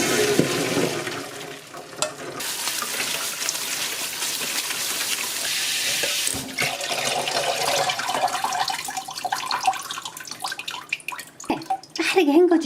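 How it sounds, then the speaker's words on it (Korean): Cold tap water gushes steadily while cooked glass noodles for japchae are rinsed, a continuous close splashing rush that shifts in tone as the noodles are moved, with a person talking over it. "찬물에 헹궈 오겠습니다."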